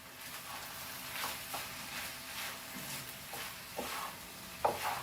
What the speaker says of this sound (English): So let's fry this.